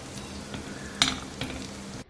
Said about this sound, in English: Then flip it over to the other side. Cook both sides until golden brown.